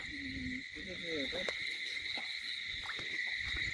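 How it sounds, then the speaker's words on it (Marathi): Birds calling outdoors beside a river: short chirps and warbling notes over a constant high-pitched insect drone, with faint scattered sounds in the background. "पक्ष्यांचा आवाज भारी ना"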